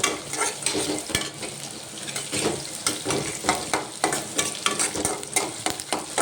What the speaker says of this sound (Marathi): तर बघू शकता कांदा होत आहे. जे शेंगदाणे आहे ते झाले आहे छान.